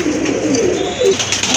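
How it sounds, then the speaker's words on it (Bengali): Active pairs of fancy pigeons, including Bahama breed birds, coo steadily in low repeated murmurs, close and continuous without any voices over them. "এই যে দেখেন কবুতরগুলো কিন্তু খুবই অ্যাক্টিভ আর ফ্রেশ কবুতর।"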